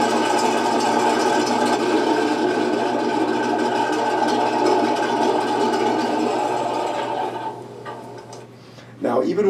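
A Tiger 1 engine sound unit in an RC tank idles with a steady mechanical drone, then winds down and fades before a brief clatter at the end.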